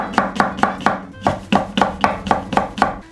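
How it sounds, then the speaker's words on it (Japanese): A knife slices a Japanese long green onion (naganegi) into rounds on a cutting board, about a dozen crisp, evenly spaced chops close by with no talking. "ネギは輪切りにしていきます。"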